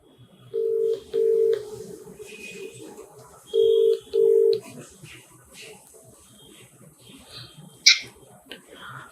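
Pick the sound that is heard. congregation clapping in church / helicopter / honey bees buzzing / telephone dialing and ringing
telephone dialing and ringing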